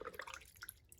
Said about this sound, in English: We need to put some water on here and just make it a little bit